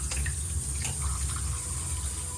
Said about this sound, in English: this is how I clean my rice. Basically water, right?